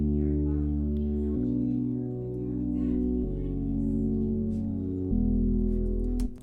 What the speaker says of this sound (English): So I have a simple little patch that I made in Serum with just a saw wave,